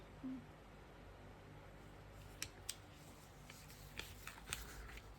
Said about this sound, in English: maybe the pink candy corns, we can just maybe trim a few.